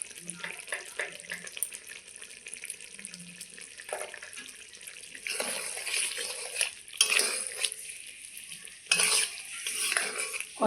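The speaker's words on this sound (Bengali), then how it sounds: "দিয়ে দেবো একটু গরম মশলা গুঁড়ো, ভালো করে মিলিয়ে নামিয়ে নেব" Garam masala powder is stirred into potol curry made with almond paste, a spoon scraping and clinking against the pan in close, irregular strokes, growing louder and busier toward the end.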